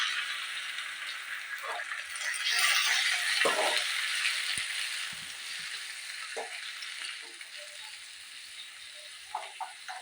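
Medium tomatoes and onions frying in a pan for millet tomato rice, a soft steady sizzle with a few light stirring clinks and scrapes, quiet and close.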